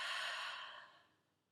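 A single deep exhale during a guided breathing exercise: a close, breathy whoosh that begins strong and then fades away smoothly over about a second, heard alone with no talk.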